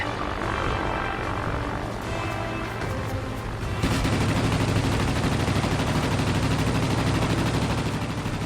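Dense, continuous anti-aircraft gunfire crackles loudly in World of Warplanes around a biplane, thickening into a steady roar of bursts and engine drone partway through, with no talk.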